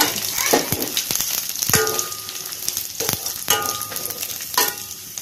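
Bajji chillies sauté with tamarind in a pan for chutney, a loud close sizzle with repeated scraping and knocking stir strokes every second or so.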